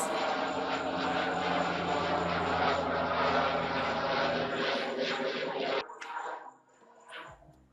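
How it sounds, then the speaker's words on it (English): Propeller airplane droning overhead, a steady broad loud roar that fills most of the clip, then cuts away abruptly near the end, leaving quieter room sound with a brief faint voice-like burst. "Airplane flying over."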